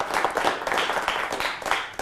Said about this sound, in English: Any round of applause if you heard of this trick,